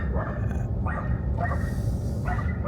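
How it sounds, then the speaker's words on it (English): Dogs running loose in a small, half-abandoned Kansas town bark in a series of short, sharp yaps, fairly close and repeated at a steady pace. "I got a lot of dogs running around loose"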